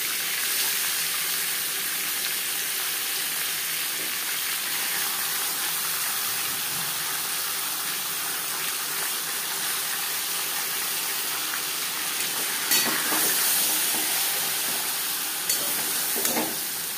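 Marinated chicken sizzling and frying steadily in a pan, a continuous close hiss with occasional stirring clatter near the end.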